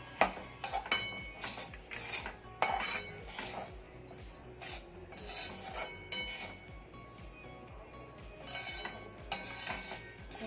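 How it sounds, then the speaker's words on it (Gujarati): A spoon stirs semolina roasting in ghee in a metal pan, giving repeated scraping clinks in an uneven rhythm, close but quiet, with no one talking. "ઘીમાં સાતરવાની છે, લાલ થાય ને ત્યાં સુધી સાતરવાની છે."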